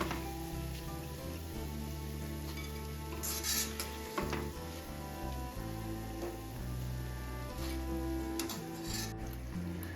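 Gram flour batter drops for motichoor laddu fry in hot oil with a steady, close crackling sizzle and occasional stirring scrapes, over sustained background music, with no speech.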